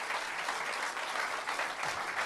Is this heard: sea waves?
no